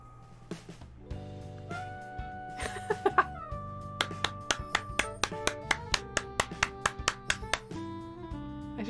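Hand clapping during a livestream of a life-simulation makeover game, a run of about a dozen sharp, evenly spaced claps under steady game music, loud and close.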